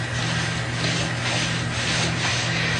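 Waxing the plate of a Shopsmith SS112 belt sander: a steady, close rubbing sound that holds at an even loudness the whole time, with soft swells from the back-and-forth strokes.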